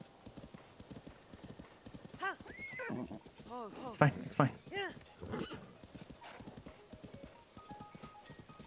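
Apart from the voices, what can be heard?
horse hooves clip-clopping, from video game Zelda: Tears of the Kingdom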